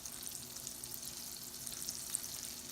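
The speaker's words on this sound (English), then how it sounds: "we're just going to put them down into the frying pan" Pieces of liver sizzle in a pan of melted butter and grease, a soft, steady frying hiss with faint crackles and no voices.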